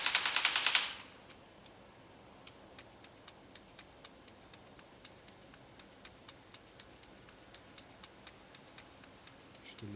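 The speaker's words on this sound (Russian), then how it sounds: "Кто там стрелял, интересно?" A short, loud burst of rapid gunfire from a shooter game played on a Vivo X100 Pro smartphone, followed by faint, evenly spaced ticks and a brief sound at the very end.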